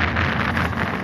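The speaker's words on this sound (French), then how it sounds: "Ça souffle, oui, il y a un peu de vent." Wind buffets a microphone aboard a boat at sea off Les Sables-d'Olonne, a brief loud rushing roar with no talking.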